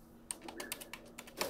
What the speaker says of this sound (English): Oh, I like the sound of a keyboard.